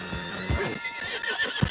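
A horse in Red Dead Redemption 2 whinnies up close, with clip-clopping hooves under the neigh.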